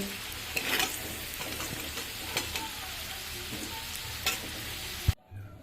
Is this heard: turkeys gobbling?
no